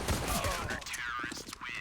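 Gunfire in CS:GO during a DreamHack Masters Spring 2021 match on Overpass, including a headshot; a dense, clattering burst of game weapon fire and effects runs continuously through the short moment.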